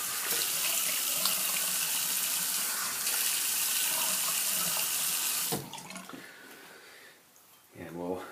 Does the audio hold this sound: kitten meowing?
no